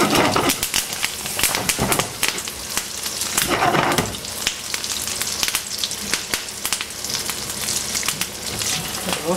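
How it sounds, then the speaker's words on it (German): Shrimp sizzle briefly in olive oil and butter with herbs in a pan, a loud, steady crackling fry with dense spattering pops that carries on throughout. "das Olivenöl, Kräuter, etwas Butter, das Garnelen ganz kurz braten"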